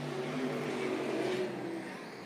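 A late model race car, a topless outlaw type at a dirt track, roars as it accelerates, its engine note loud, close and sustained before easing slightly at the end.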